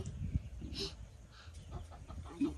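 Chickens cluck close by in a rural yard, with short, uneven cackles over a bed of low rustling and background noise, and no clear talk.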